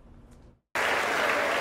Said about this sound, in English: Lawmakers on their feet amid applause